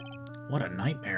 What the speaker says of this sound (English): And I bet it was this ringtone that caused it.